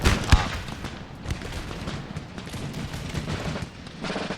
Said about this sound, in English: they are shooting into this flank